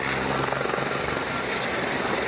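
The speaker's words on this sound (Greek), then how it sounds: "Ξαφνικά το ελικόπτερο που τον μεταφέρει προσγειώνεται σε λασπόδες έδαφος λόγω μηχανικής βλάβης" A helicopter with a mechanical fault sets down on muddy ground in the Andes, its engine and rotor making a loud, steady, dense roar that fills the whole stretch without a break.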